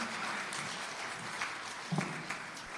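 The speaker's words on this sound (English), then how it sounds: "Can you give her another round of applause to me, please?" Audience at a Ministry of Health and Wellness national health research conference applauds, a steady, fairly faint patter of many hands in a large room.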